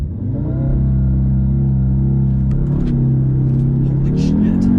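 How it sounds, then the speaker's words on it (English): Audi TTS launched from a standstill with traction control off, engine loud and close as revs build and rise steadily under hard acceleration, with faint voices breaking in toward the end. "left foot on the brake, right foot on the gas, build boost, and let go."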